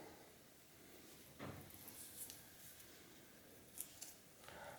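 Scissors snip through paper cut-outs for a collage in a quiet room, a few soft separate cuts with faint rustling between them.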